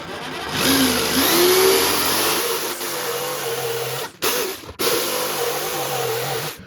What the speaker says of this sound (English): help with operating the Jigsaw, but it's too dangerous